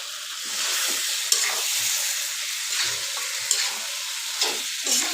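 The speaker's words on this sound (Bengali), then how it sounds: "এই তো আমার মাংসটাকে কষিয়ে নিচ্ছি।" Beef pieces frying with spices in a pan for a cabbage curry, a steady loud sizzle with occasional scrapes and stirs throughout, no voices.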